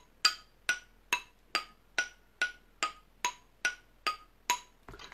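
Bright metallic bars of a glockenspiel are struck one after another at an even pace, about a dozen ringing notes with short decays, played alone.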